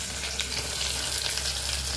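Onions frying in a pan as the base for a home-cooked pepper chicken, giving a steady, close, dense sizzle and crackle with no voices.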